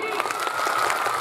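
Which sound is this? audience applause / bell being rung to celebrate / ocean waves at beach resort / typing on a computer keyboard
audience applause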